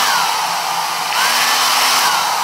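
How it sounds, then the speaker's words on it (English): A blow dryer on a hot, low-heat, low-power setting drying and flattening sideburn hair on a blonde balayage wig; a steady, loud, continuous whooshing roar that runs unbroken, shifting slightly in tone partway through. "Blow dryer and just push everything down."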